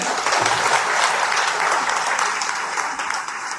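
Sustained applause from a large crowd at a political rally, loud, dense and steady throughout without a break.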